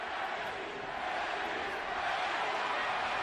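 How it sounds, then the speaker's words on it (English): An arena crowd at a Manny Pacquiao versus Erik Morales boxing match gives off a dense, sustained roar of voices, steady and loud throughout, with no distinct chant rhythm standing out. "Pacquiao crowd chanting Manny,"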